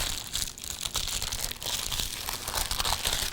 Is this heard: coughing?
no